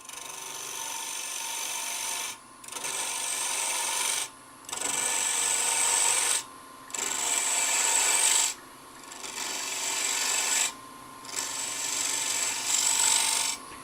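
A woodturning tool cutting a tenon on a lathe, a loud, harsh rasping cut repeated in about six passes of roughly two seconds each, separated by short pauses, close up.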